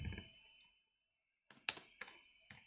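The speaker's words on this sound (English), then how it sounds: "Alright, I'm typing it." Computer keyboard keys clicked in a quiet room, a few soft taps early, then a near burst of sharp clicks in three quick clusters, with no talking.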